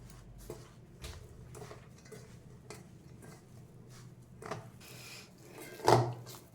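Ingredients for veg Manchurian, with vinegar added, being mixed in a bowl, with soft scraping and clinking of a utensil against the bowl at an uneven pace, plus one sharper knock near the end.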